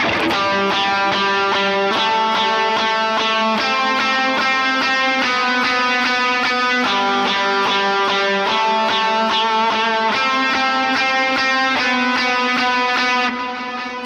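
An electric guitar picks a steady, bright lead melody, note after note in even rhythm, loud and close with a slightly driven tone, no talking.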